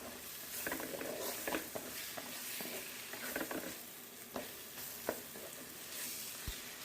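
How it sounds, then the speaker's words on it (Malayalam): Tomatoes and spices sauté in a pan for a Kerala chicken varattiyathu, with soft sizzling and intermittent scraping stirs, quiet and close with no talk. "ഇതിപ്പോൾ എല്ലാം കൂടെ നന്നായിട്ട് ഒന്നങ്ങ് വഴറ്റിയെടുക്കാം."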